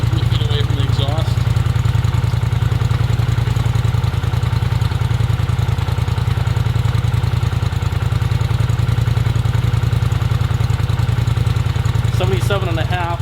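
A 2018 Polaris Sportsman 1000 XP with a Big Gun EXO slip-on exhaust idles steadily, a loud, deep, even rumble heard close up from a few feet off the exhaust, with brief bits of voice at the start and end.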